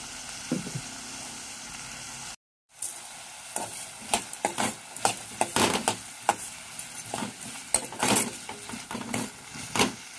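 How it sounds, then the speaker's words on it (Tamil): Onions and curry leaves sautéing in a pan for an onion curd gravy, a continuous sizzle broken by a brief gap, then repeated sharp scrapes and clinks of a spoon stirring against the metal, no talking. "இதெல்லாத்தையும் நல்லா வதக்கிடலாம்."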